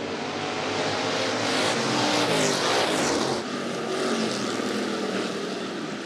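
Hobby Stock race cars roar around the Rapid Speedway dirt oval in a steady, loud engine drone, with the pitch shifting as the pack passes, mixed with crowd noise.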